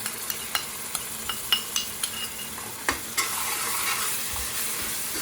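Onions frying with ginger garlic paste in a pan, a spoon scraping and tapping in a quick series of knocks before the sizzle rises into a steady, louder hiss near the end.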